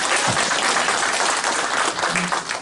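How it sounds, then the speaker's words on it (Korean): Steady audience applause after a lecture in a Korean lecture hall, dense and continuous clapping at close range with no talk over it. "지금까지 열강을 해주신 우리 김규성 대표님께 감사의 박수 보내드리겠습니다."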